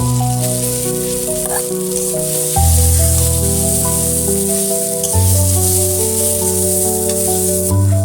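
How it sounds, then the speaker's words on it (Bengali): Asafoetida with a fig and potato masala frying in hot oil in a wok, giving a loud, steady sizzle with bursts of stirring and spatula scraping throughout, no voices. "কড়াইতে তেল গরম হয়ে গিয়েছে, এবার একটু হিং দিয়ে দেবো"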